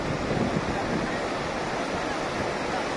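Rushing floodwater torrent sweeping cars away, a steady loud broadband roar of churning water with wind noise, continuous and close throughout.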